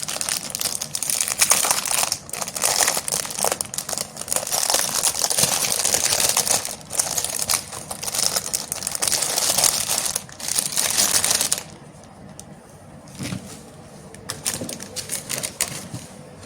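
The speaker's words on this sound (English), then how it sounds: "Let me do some crinkling and I will resume." Continuous crinkling of a kit's wrapping, loud and close, with rustling bursts for most of the span before dropping to quieter scattered crackles near the end, with no talk.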